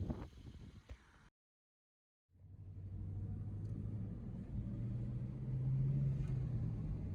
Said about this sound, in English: Now we're gonna go take the car for a test drive.